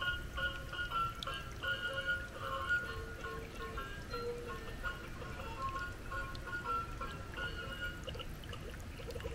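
A battery-powered spray water splash toy set into water gives a steady, moderately loud trickling and pouring wash that runs the whole time, with a faint tinkling melody layered over it and no talk.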